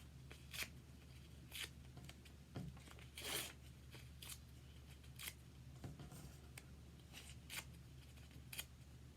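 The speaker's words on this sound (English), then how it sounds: "So I have a piece of purple paper, and I'm just going to rip it up." Purple paper being ripped up by hand into small pieces, a series of quiet, short tearing and crinkling bursts at irregular intervals over a low steady room hum, with no talking.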